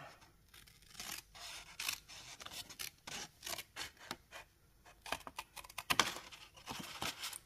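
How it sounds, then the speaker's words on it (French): Sharp, irregular snips of scissors cutting through card paper, close and crisp, with short pauses and light paper rustling between cuts. "On coupe les deux. On enlève le premier. Et on coupe tout ça."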